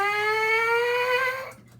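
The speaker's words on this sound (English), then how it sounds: "in order for you guys to get a buzz going upward" A brass player's lips buzz in a single sustained tone for a brass embouchure warm-up, the pitch sliding gradually upward before cutting off abruptly, close and alone with no talk.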